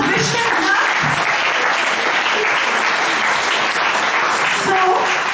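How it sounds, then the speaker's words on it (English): An audience at a school quiz competition at Hosur Public School claps in sustained, dense applause from start to finish, with a few voices faintly mixed in. "give all of them a huge round of applause"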